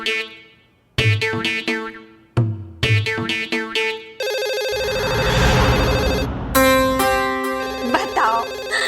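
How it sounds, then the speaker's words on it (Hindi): A mobile phone rings loudly and up close with a repeating melodic ringtone in short bursts, followed by a longer, brighter stretch of the tune. "बताओ, फोन चालू होते ही बजना शुरू हो गया।"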